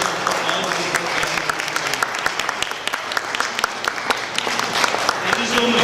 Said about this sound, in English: may I please ask a round of applause for Pratham at UH?